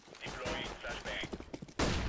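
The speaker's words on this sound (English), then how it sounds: "Deploying flashbang." Gunfire and a flashbang in a video game just after a bomb is planted: dense, rattling shots through the first half, then a sudden loud, harsh burst near the end.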